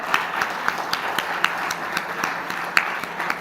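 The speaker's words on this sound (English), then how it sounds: "Let's have a huge round of applause for them." Audience applause for coders at a grand finale event in Mumbai, a steady patter of many hands clapping in a large room, moderately loud with no voices over it.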